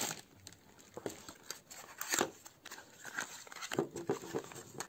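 Quiet rustling and crinkling of plastic packaging as pharmacy items are pulled out of a bag, in soft irregular bursts close by.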